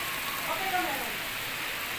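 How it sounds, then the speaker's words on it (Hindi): Continuous rain falls steadily in Pakistan, a soft, even hiss of drops on surfaces with a brief faint voice in the middle. "मुसलसल त्रै दिन तो लगातार है बारिश जारी है।"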